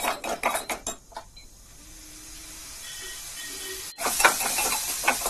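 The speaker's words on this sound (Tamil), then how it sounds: "நம்ம போட்டிருக்க எல்லாமே கொஞ்சம் நல்லா வதங்கட்டும், வதக்கலாம்." Prawn masala ingredients are sautéed in a pan, with a soft sizzling hiss broken by clinks and scrapes of a utensil against the metal pan, which grow busier at the start and the end.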